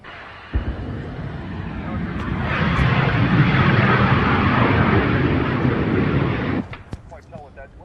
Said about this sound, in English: It's the pressure relief valve on the large propane tanks on the back of the residence venting so they don't explode